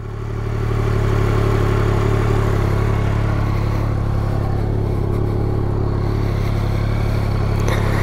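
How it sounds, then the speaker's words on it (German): A Yamaha Tracer 9 GT's CP3 three-cylinder engine idles and runs steadily nearby, a loud constant mechanical drone with a rough three-cylinder throb and no talking. "Dreizylinder-Sound oder sogar klassischer MT09-Sound. Das hört man."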